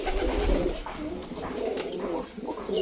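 Rajshahi Giribaz pigeons coo steadily in low, throaty rolling calls, fairly close and continuous through the moment, with faint background noise and no clear talk.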